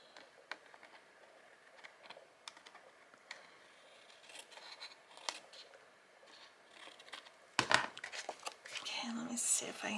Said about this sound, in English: Here, let me trim this off.